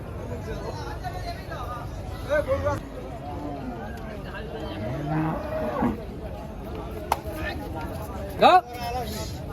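Large cattle moo at a busy Eid cattle market, several low moos rising above steady crowd chatter and nearby talking.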